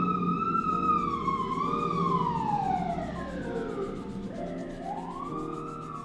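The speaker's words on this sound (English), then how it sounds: "Thank God my ambulance is here." An emergency vehicle siren wails in long, sweeping rising and falling tones, loud and steady, then dips lower and climbs again near the end, with no voices.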